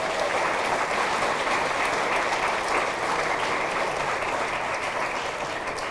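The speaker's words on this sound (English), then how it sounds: "Let's give them a big round of applause." Sustained, loud applause from an audience fills a high school athletic hall of fame ceremony in a hall, a dense steady wash of clapping with no pauses throughout.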